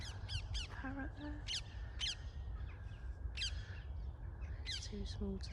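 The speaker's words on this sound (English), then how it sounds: "Parrot there." Outdoors among big trees on a walk, a parrot gives repeated harsh squawks at mid-distance in irregular bursts over a constant rushing background, with no speech.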